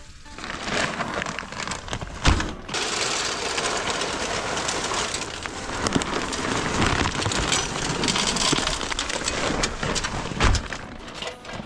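Wood pellets pour into the hopper of a Pit Boss pellet grill, a continuous dense rattling and hissing cascade at close range that runs for several seconds with slight surges.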